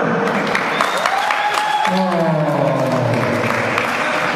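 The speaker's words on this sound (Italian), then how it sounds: "Voglio sentire un applauso per la regina Elena" Crowd applause for queen Elena at a party hall in Foggia, steady clapping mixed with voices and a rising shout or whistle, continuous and fairly loud.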